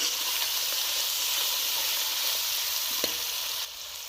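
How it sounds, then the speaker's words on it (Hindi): Garlic ginger paste frying in sarson ka saag, a steady close sizzle and hiss that runs throughout without pause, with one faint knock near the end and no talk. "और अब हम इसमें लहसुन अदरक का पेस्ट डाल देंगे।"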